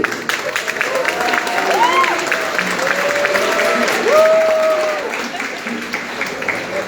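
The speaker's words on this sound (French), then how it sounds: "On applaudit" Audience applause at the closing session of a congress, a soft continuous patter of many hands held at an even level throughout, with voices calling out and talking over it.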